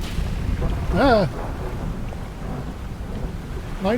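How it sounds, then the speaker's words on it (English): A thunderstorm at sea in the game Dredge brings rain and wind with a low rumble, while two short tonal warbling calls cut through the storm. "Lightning's not good."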